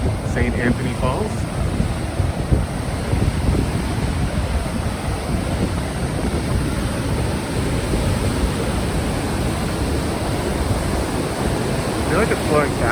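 Water pours over St. Anthony Falls in Minneapolis, a steady broadband rush heard from nearby, constant and moderately loud, with wind noise in the background.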